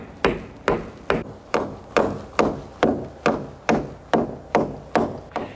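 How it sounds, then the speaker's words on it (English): Steady hammering drives nails into a new wooden ridge beam fastened to the old ridge beam and rafter tops during house roof repair, about thirteen sharp, evenly spaced blows, close and loud with no talking. "The beam is nailed to the old ridge beam on the house and to the tops of the rafters."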